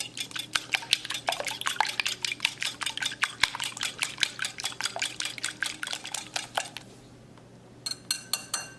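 A fork beats egg for an oat coating in a bowl, a steady, rapid run of close clinking strokes against the dish that pauses briefly near the end and then resumes.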